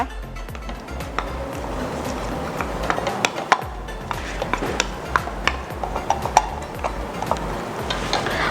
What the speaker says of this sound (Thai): คนให้เข้ากันก่อนนะคะ